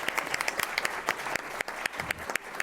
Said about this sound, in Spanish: les pido que le demos un fuerte aplauso, por favor, a Roberto Ríos